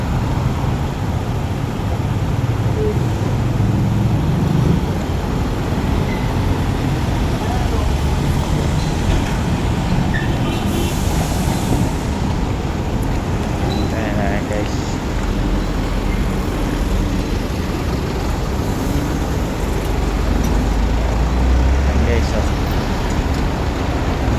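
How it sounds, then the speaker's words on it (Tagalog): Steady traffic on a busy highway in the Philippines, a continuous broadband roar of passing cars, buses and trucks close by, with people talking over it throughout. "Busy pa tong highway na to."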